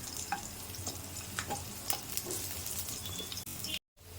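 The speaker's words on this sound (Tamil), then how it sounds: "அதே இதில் போட்டு வறுத்துக்கணும். நல்லா பூண்டு சிவந்து வரட்டும்." Garlic sizzles and crackles in hot oil with a steady frying hiss, occasional stirring clatter, then a brief cut near the end.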